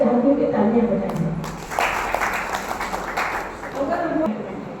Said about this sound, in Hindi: मैं उनके लिए चाहती हूँ कि तालियां बजाएं।